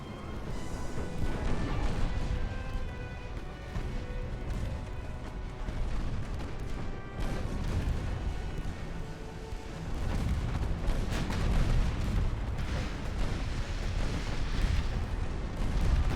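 Naval gunfire in Ultimate Admiral: Dreadnoughts, with an 1890-hull warship in battle: heavy booms and rumbling blasts go on continuously over a dense wash of battle noise, loud and close.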